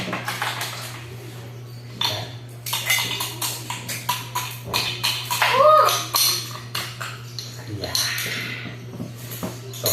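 A homemade cooling refreshment mixture with plenty of yellow ingredients is stirred in a pot, giving irregular metallic clinks and scrapes of a utensil against the pot while people talk and laugh nearby.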